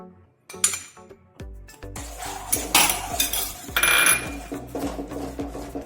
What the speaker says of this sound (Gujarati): आ रीते एक हाथथी हलावता रही અને થોડું થોડું એડ કરીશું